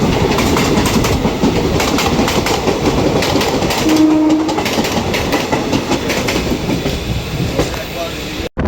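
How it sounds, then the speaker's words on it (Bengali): A Krishak Special local passenger train bound for Sealdah runs through Titagarh station without stopping, giving a loud, steady rumble of wheels and carriages with continuous rattling clatter throughout. "এখন আমাদের ট্রেন স্কিপ করছে টিটাগড়।"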